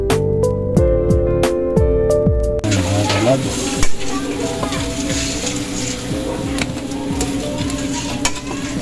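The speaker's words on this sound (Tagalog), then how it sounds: "Haluin lang natin ng maayos" Pancit canton noodles sizzle and fry in a pan while being stirred, giving a steady loud hiss with scraping and clinking of a utensil against the pan, preceded by a few seconds of music.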